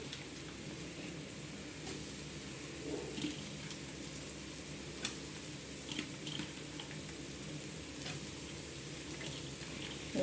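Steady sizzling and crackling of onions frying in a pan, a soft continuous hiss with small pops, no voices.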